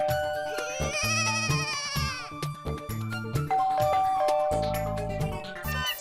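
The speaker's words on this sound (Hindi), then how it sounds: "इसकी तो घंटी भी बज रही है।" A doorbell rings with a chiming tone against a door in a comedy scene, heard alongside bright musical and bleating-like tones over about six seconds at moderate loudness.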